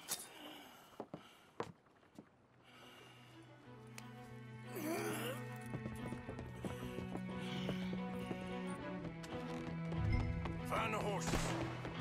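Horses in the Red Dead Redemption 2 video game, with hooves clip-clopping and a neigh over a swelling orchestral score, while voices speak at moments.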